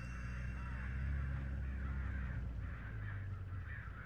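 Crows caw in the driving video game HitchHiker, loud repeated harsh calls that blend into a steady raucous clamour over a low hum from the game, with no speech.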